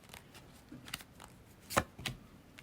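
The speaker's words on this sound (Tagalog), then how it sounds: "kung ayaw nyo nang naririnig yung binabalasa" Soft riffling and flicking of tarot cards being shuffled, a few quiet bursts with one sharper snap near the end, close by and with no talking.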